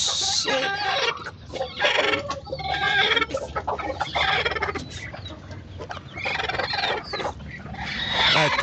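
Hens clucking and squawking near a laying area, busy overlapping calls in quick bursts, close and fairly loud, with a rooster crowing among them.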